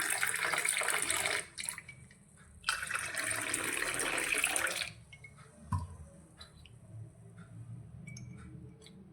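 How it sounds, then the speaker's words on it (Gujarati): Water poured into a glass of cold jeera sharbat over ice gives a steady close splashing stream, pausing briefly and resuming, then trailing into light drips and clinks. "અને સાથે તેની અંદર આપણે પાણી રેડીશું."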